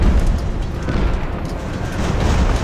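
Cannon fire from a naval battle in the Ultimate Admiral: Age of Sail video game: dense, rumbling booms rolling together into a loud, continuous low barrage with faint crackle, no voices.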